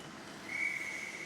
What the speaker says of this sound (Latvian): Dānals uztver smuki Ripu, bet Svilpe apstādina